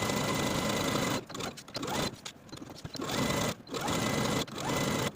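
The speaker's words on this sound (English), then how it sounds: "Stitch all the way around with a 3/8 inch seam allowance." A sewing machine stitches around a dog dress bodice with a 3/8 inch seam allowance, running in loud steady bursts with brief pauses between them and no talk.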